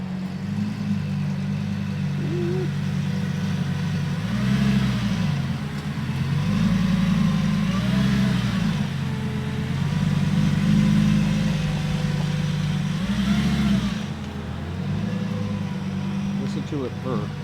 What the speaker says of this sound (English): Yes, those mufflers will be getting removed very soon. And this exhaust will be twice as loud.